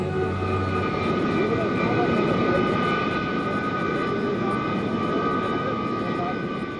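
An Indian Air Force transport plane airlifting vehicles and members from Rangoon to Imphal: a steady, loud engine drone that holds evenly for the whole stretch.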